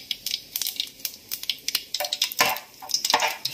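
Whole spices and masala fry in hot oil in a pan for mushroom biryani, quick crackles and sizzling bursts with light scraping of a spoon, close and fairly quiet, no voices.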